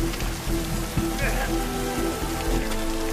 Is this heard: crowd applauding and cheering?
no